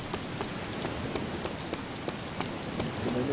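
Rain falling in the video game DayZ, a steady close patter of drops on a surface with faint soft ticks throughout, heard alone.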